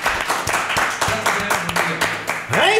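A small group claps in rhythmic bursts for a guest on a French-language podcast, close and fairly loud, with voices and laughter mixed in.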